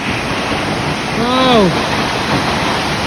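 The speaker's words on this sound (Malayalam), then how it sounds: "കണ്ടില്ലേ ഇവിടുന്ന് എത്ര ഫോഴ്സിലെ വെള്ളം ചാടണേ." Forceful waterfall at Weinia Falls in Meghalaya, a steady close roar of rushing water that fills the whole clip, with a brief rising and falling tonal call heard midway over the noise.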